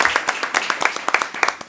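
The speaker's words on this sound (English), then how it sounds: "So big round of applause on this." Audience applause at a Winton Woods board of education meeting held inside a school building, a brief burst of scattered hand claps, fairly close and uneven in rhythm.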